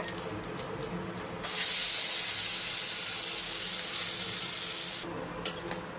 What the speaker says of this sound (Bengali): ঘিটা গরম হয়ে এসেছে এখানে এই যে পেস্ট করেছি ছোলার ডাল এরপরে এর মধ্যে দিয়ে দিচ্ছি এটা ঢেলে দিচ্ছি পুরোটা